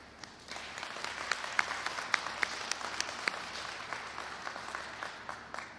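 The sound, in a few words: audience applause at transit event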